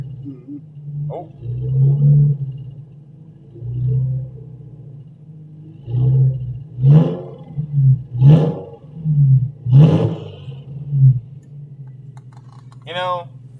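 A Subaru EJ20Y engine running on ethanol, fitted with a GTX3076R turbo and Link G4X ECU, idles with a low rumble, then rises through four or five sharp, roaring revs in quick succession; voices talk faintly in between.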